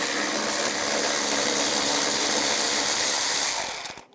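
A ratchet with a 10mm socket spins a bolt out on a 1999-2006 Chevrolet Silverado 1500 headlight mount, a steady dense whirring rattle close by that stops abruptly at the end.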